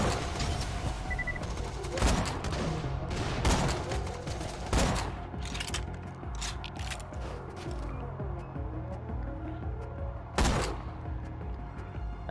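A sniper rifle fires in Borderlands, with several loud, sharp game gunshots spaced seconds apart. Each shot rings out against a steady background of game ambience.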